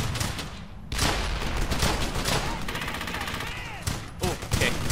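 Machine gun fire in the World War II shooter Brothers in Arms: Hell's Highway, loud bursts of rapid gunshots and a fusillade of distant shots over a few seconds, with a voice heard briefly.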